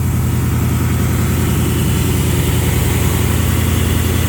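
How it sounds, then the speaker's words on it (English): A 1969 Chevy Camaro with an LS engine swap idles slightly high, a close, loud, steady low rumble with even pulsing throughout and no voices. "That idle is a tad bit high"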